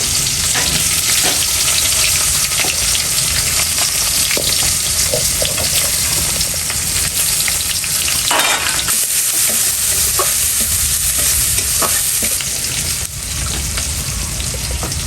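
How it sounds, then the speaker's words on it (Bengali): Onion, chili and cumin frying in oil in a wok, giving a loud, steady sizzle with bursts of crackle and occasional stirring scrapes throughout, with no voices. "এবার আমি কড়াইতে তেল দিয়ে দেবো একটু পরিমাণ মতো। একটু জিরা দিলাম, দেবো পেঁয়াজ কুচি"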